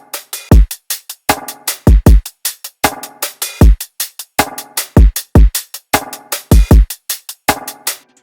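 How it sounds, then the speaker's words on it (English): Kick drum in a produced drum loop, deep booming thumps falling in a syncopated pattern among crisp rim and hat hits, loud and close, repeating throughout. "And then this kick."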